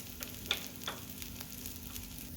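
Ragi dosa batter sizzling on a hot oiled pan, a faint steady frying hiss with a few small crackles and ticks, heard alone without talk.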